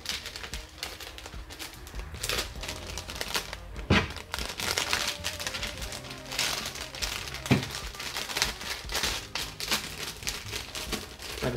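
A packaging bag being spread out, folded and crinkled by hand, with steady crinkling and rustling and a few sharper crunches at a close distance and no speech.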